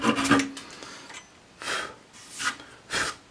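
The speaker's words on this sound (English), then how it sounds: "Keep moving it a little bit so this protects the wood as I cut through that plug." A hand saw cuts flush through a wooden screw plug with short rasping strokes, a dense burst at first and then three separate pulls spaced about a second apart, close up and with no talking.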